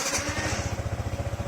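A Yamaha New Vixion R motorcycle engine idles close by with a steady, rapid low thumping pulse and a faint mechanical whir.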